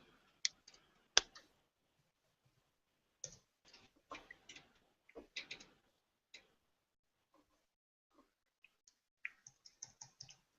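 Sparse, quiet clicks of a computer keyboard being typed on, arriving in short irregular bursts with pauses of silence between them.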